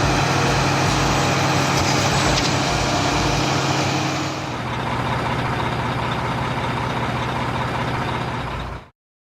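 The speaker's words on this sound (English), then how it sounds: "Dump truck." A heavy truck engine rumbles steadily and loudly close by, its broadband roar shifting slightly midway before cutting off abruptly.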